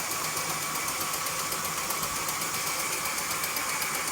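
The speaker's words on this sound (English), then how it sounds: "the mixer's just been kneading the dough" Stand mixer with a dough hook kneading pizza dough, giving a steady, loud mechanical whir and hum with a fast, even pulsing that runs without pause and with no talk over it.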